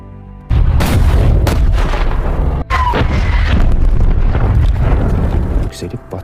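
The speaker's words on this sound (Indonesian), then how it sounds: "Letkol Faisal dan pasukannya yang bersembunyi segera memerintahkan pasukan artileri untuk menghabisi musuh dengan" Long-range artillery fire and explosions in a war film: heavy booms and blasts roll continuously and loudly, with a sharp cut partway through and dramatic sound effects layered over the barrage.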